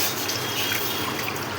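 Water pours steadily into a pan for rava upma, a short, soft, continuous stream with no other sounds.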